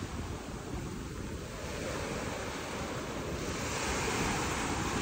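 Sea waves wash steadily onto the shore at Colibra Island in Dasol, Pangasinan, a continuous broad surf roar with wind buffeting the microphone, growing slightly louder toward the end.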